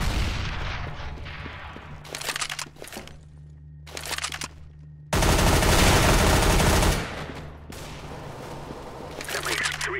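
Gunfire and a grenade blast in the video game CS:GO: bursts of automatic fire crackle near and far, then a loud sustained explosion roars for about two seconds before the shooting resumes.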